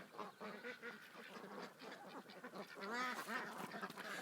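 Ducks quack among a large flock of more than a thousand ducks during a summer heatwave, with rapid overlapping quacks and honks, close and fairly loud, continuing throughout with no talking.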